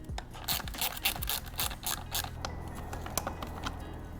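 Metallic clicks and scrapes of a 3mm hex key working bolts loose on an Aprilia RSV4 motorcycle, a busy run of close, irregular ticks and ratcheting taps over a low steady hum.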